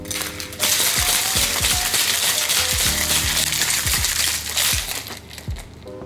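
Ice rattles and crunches hard inside a cocktail shaker as a rum drink is shaken for several seconds, a loud, rhythmic clatter of repeated strokes heard alone.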